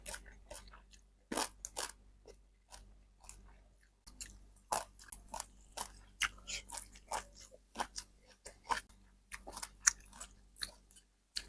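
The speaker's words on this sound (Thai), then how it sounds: "มากินปลาเค็มกันครับแก้เดิมๆเอามะนาวบีบใจเลยครับ" Close, crunchy chewing of fresh raw vegetables with shrimp-paste chili dip, fried egg with cha-om and salted fish: repeated sharp bites and wet mastication in an irregular rhythm, with no talking.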